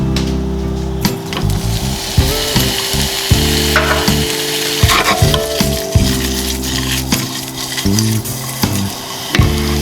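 Sliced sausage sizzles in a hot pan, a steady frying hiss broken by repeated clattering scrapes and stirring knocks close by.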